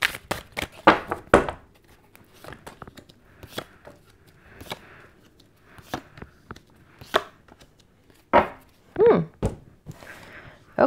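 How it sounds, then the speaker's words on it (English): Tarot cards are shuffled in a series of crisp riffles and taps, some sharp and some soft, with pauses between them and no talk. "One more shuffle."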